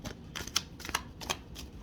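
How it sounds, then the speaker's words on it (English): Tarot cards being shuffled, soft riffling and flicking bursts in an irregular rhythm, close and quiet with no talk. "One more shuffle."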